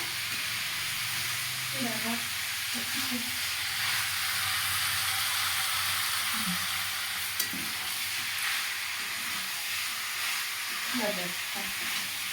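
Meat frying in a pan with already-fried onion and garlic gives a steady, close sizzling hiss with occasional stirring, while a voice murmurs faintly now and then.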